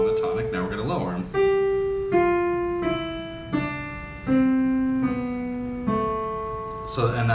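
A piano plays a descending melodic minor scale, one clear sustained note after another at an even, unhurried pace, heard up close, preceded by a short spoken bit.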